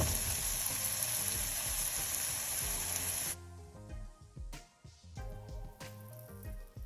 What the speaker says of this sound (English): Let's fry them on medium flame until it's golden brown.